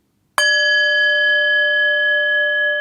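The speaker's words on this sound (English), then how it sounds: "Do you like my bell?" A meditation bell is struck once and rings out with a clear, sustained, shimmering tone that hardly fades over a few seconds. It is close and loud, with no talking.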